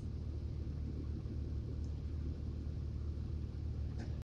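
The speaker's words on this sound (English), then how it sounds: "blue Mustang coming in." A blue 1994 Ford Mustang rolls into a salvage yard, its engine a steady, low, continuous rumble close by, with no talk over it.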